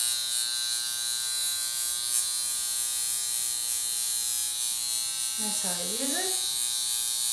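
A high frequency skin care device fitted with a small electrode buzzes steadily and close up, with a thin electrical hum throughout and someone briefly speaking over it near the end.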